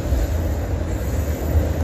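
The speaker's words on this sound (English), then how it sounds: "got a train going by, so it's a bit loud" A train passes by at night, a loud continuous low rumble and rolling rail noise dominating throughout, steady and close.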